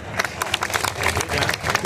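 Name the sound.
audience applause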